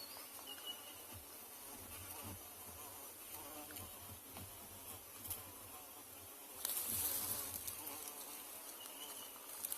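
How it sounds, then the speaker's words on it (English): Carpenter bees and honeybees fly around the banks of the Mara River, giving a faint, steady insect buzz that swells louder near the end, with no talking. "honeybees and also carpenter bees bees flying around here"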